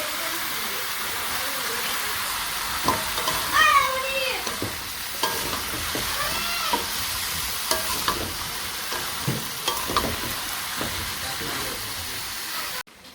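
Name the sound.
eggplant frying in oil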